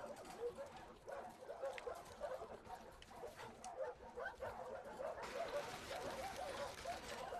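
Dog in the video game The Last of Us whimpering and yipping with short barks, faint and intermittent over quiet ambient background with birds.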